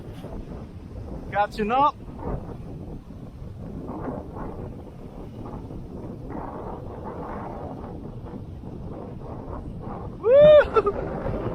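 Strong gusting wind buffets the microphone around a DJI Mavic Air 2 drone flying in sport mode near ocean waves, a steady roar with two louder bursts, while someone talks briefly.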